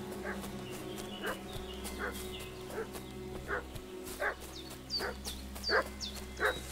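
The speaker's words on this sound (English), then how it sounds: "What's that dog making such a fuss about?" A dog in the game Kingdom Come Deliverance 2 barks repeatedly in a steady, fussy rhythm, with sharp yips roughly every half second over a low ambient hum, moderately distant.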